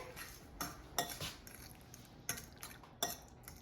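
A metal spoon mixes mashed avocado in a bowl, giving a run of irregular scraping clinks and taps against the dish, close and fairly quiet, with no talking.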